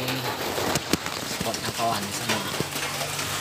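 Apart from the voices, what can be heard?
rain falling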